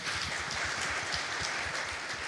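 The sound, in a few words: church congregation applauding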